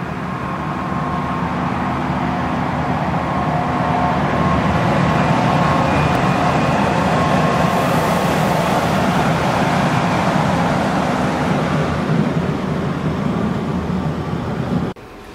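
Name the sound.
narrow-gauge steam train pulled by a diesel locomotive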